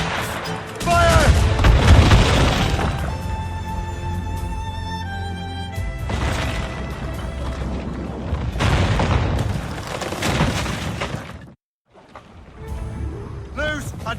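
Ship cannons fire in naval combat in Assassin's Creed Rogue, with deep booming blasts rolling out one after another. A crew shouts over them, and a brief silent gap falls near the end.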